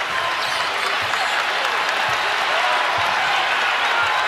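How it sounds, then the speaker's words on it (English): A sold-out crowd at a Providence vs. Butler college basketball game cheers and applauds in a dense, steady roar that fills the arena without letup, with a few dull thumps underneath. "This place rises to its feet. Sold out crowd."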